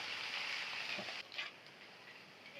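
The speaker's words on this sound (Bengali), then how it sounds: "এখন সুন্দর করে নেড়ে চেড়ে মিক্স করে নিতে হবে।" Noodles with Maggi masala are stirred in a frying pan, a quiet sizzle with faint scraping, dropping lower after a soft clack partway through.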